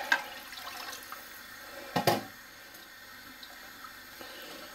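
Water is poured into a pot of tomato soup made with tomato paste, a faint steady trickle and wash with a couple of brief splashy bumps, no talking.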